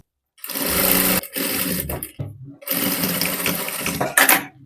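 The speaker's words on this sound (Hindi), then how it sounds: "यहीं से रिटर्न करके चारों तरफ कॉलर के सिलाई लगा देना है" A sewing machine stitches around the collar of a half-collar blouse in loud bursts of fast, even whirring. Short pauses break the bursts, and the machine sounds close by.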